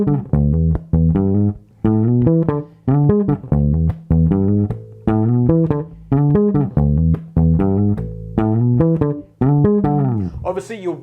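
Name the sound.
funk bass line with tritone slides on bass guitar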